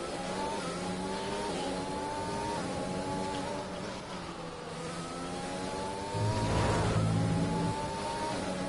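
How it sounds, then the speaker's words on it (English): An F1 2020 race car in the video game drops a wheel into the gravel trap, its high engine whine droning steadily with a rougher, louder rumble swelling near the end. "So we dip wheel into the gravel."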